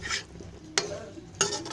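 Beans stir-fried with asafoetida in a pan, a faint low sizzle with a few sharp clinks and scrapes of a utensil against the pan.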